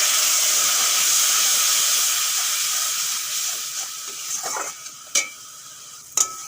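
Spices for a chickpea-lentil and soybean curry fry and get stirred in a pan with a splash of water, a steady close hiss easing off, then sharp scrapes of the spoon near the end; no talking.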